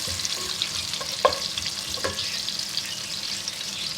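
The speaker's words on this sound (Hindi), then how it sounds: "नारियल है, घी है, इसको हल्का सा हम फ्राई करेंगे" Coconut fries in ghee with raisins in a pan for zarda, a steady close sizzle with a few sharp stirring taps and scrapes, no talking.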